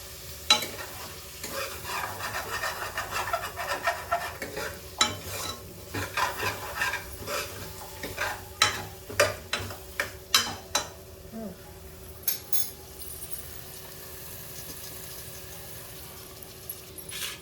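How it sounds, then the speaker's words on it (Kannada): Drumstick pieces and mango frying in a pan for Tamil Nadu style mango sambar, a steady sizzle broken by repeated scraping and clinking stirs that grow sharper midway, then settle back to a quieter fry. "ನುಗ್ಗೆಕಾಯಿ ಆ್ಯಂಡ್ ಮ್ಯಾಂಗೋ ಎರಡೂ ಆ್ಯಡ್ ಮಾಡಿದ್ರು. ಸೊ ದಟ್ ಇವಾಗ ಅದು ಚೆನ್ನಾಗೆ ಫ್ರೈ ಆಗಬೇಕು."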